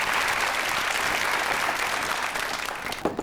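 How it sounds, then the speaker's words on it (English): A studio audience at a cooking show breaks into sustained, dense applause that fills the room evenly and tapers slightly toward the end. "round of applause at this age."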